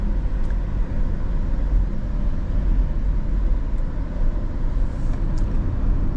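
Inside a moving 2025 BYD Sealion 7 electric SUV: a steady, dense low rumble of road and tyre noise with an even hum throughout, and no voice.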